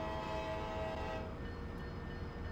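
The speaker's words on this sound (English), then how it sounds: "Honk that horn!" A train horn sounds in the railway simulation game Transport Fever, a loud, sustained tonal blast lasting a little over a second. It then cuts off, leaving the steady rumble of the train running on alone.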